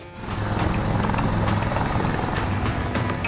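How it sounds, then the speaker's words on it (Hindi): An Advanced Light Helicopter Mark 3 flying during a storm rescue at sea, its rotor a loud, continuous, close whirring drone with a steady high whine, sustained for about three seconds with no talk. "इस रेस्क्यू ऑपरेशन को एडवांस लाइट हेलीकॉप्टर मार्क 3 की मदद से अंजाम दिया गया"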